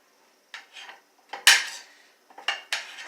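A knife chops large stuffing mushrooms for a pantry stir fry, with a handful of sharp, irregular clacks against the board and a quiet pause between the first cuts and the later ones.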